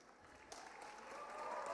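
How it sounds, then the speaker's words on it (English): An audience at an executive education graduation ceremony breaks into applause that starts partway through and swells steadily into a dense, sustained clapping from a crowd. "A round of applause for her."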